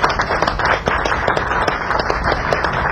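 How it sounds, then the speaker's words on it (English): An audience at a 1990 blues concert in New York gives a round of applause, with loud close hand claps in a fairly quick, uneven patter and no one speaking. "Give him a nice round of applause."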